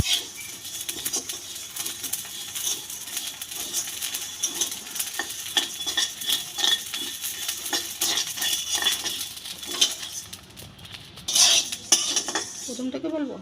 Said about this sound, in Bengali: কিছুক্ষণ নাড়তে নাড়তে চালটা ভাজা হয়ে গেছে